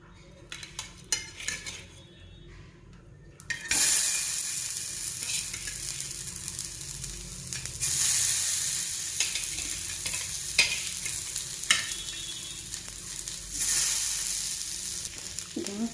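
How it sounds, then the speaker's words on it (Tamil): Fish sizzles loudly as it fries on a dosa griddle (tawa) at home, with steady crackling spitting from about four seconds on, after quieter clinks and stirring of utensils; no talking. "மீனை வறுத்துருவோம் தோசைக்கல்லில் போட்டு."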